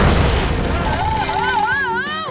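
A cartoon thunder-thump power blast booms with a heavy impact, followed by a warbling, wavering energy-effect tone swelling into rising and falling sweeps, loud and close.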